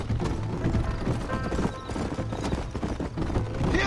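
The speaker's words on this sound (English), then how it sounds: "My horse can't keep up." Horse hooves clip-clop rapidly in a steady galloping rhythm inside the Western video game Red Dead Redemption, with an occasional neigh and game music underneath, loud and close throughout.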